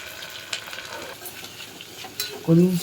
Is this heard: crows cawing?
no